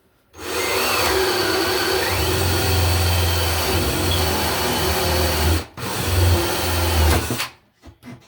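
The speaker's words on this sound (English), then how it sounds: "we'll drill our hole into the apartment here" A power drill bores a hole into an apartment wall, whirring steadily at close range for several seconds, briefly stopping and restarting before winding down.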